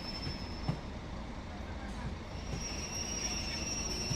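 A train braking to a stop in the Train Sim World 6 game on a Blackpool branch line, with a quiet steady rumble and a faint thin wheel squeal running throughout.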